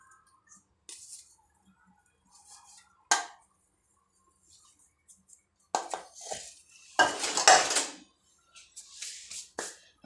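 Wheat flour is sifted through a sieve in a home kitchen, producing intermittent metallic rattles and taps in short bursts separated by near silence.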